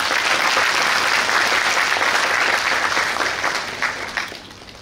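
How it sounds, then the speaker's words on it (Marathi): An audience at a university event in Solapur breaks into loud, sustained applause, a dense wash of clapping that holds steady for a few seconds and then tapers off. "एकदा जोरदार टाळ्या"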